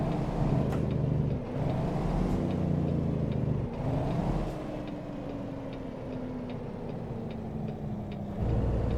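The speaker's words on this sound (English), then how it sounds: "Get some engine brake action." Kenworth W990 truck engine in American Truck Simulator with engine brake engaged, a loud, steady low diesel drone that dips and shifts in pitch several times as the rig slows in queuing traffic, close and continuous with no talk.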